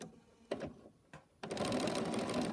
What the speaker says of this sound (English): I'm going to sew with my seams